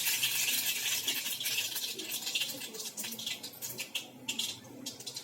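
Tempering spices crackle and sizzle in hot oil for Surti khaman, a busy hiss of frying with sharper pops that thin out toward the end, close and alone.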